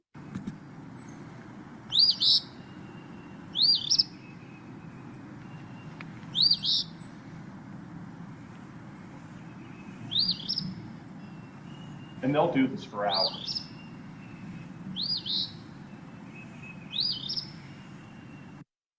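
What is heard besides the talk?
phoebe singing its rolling phoebe song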